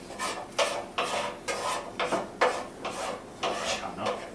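Scallop bruschetta ingredients being mixed with a wooden spoon in a non-stick pan, giving a steady series of scraping, rubbing strokes about every half second, close and moderately loud, with no voices.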